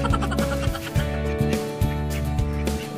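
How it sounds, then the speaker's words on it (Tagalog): A flock of ducks kept for slaughter calls continuously with dense, overlapping harsh quacks, close and loud, with no pause. "mamimili tayo dito ng ating kakatayin na pato"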